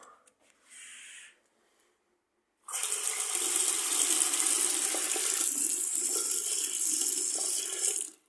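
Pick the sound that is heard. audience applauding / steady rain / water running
water running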